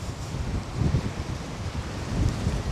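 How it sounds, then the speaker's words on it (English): Wind buffets a microphone outdoors among hurricane-damaged abandoned dorms, a steady low rumbling roar with gusty swells and no voices. "Sorry guys if there's a little bit of wind noise."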